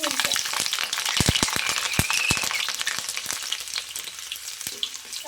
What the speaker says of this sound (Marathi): झालं आपलं तेल गरम. आता आधी तळू आपण आपल्या मिरच्या.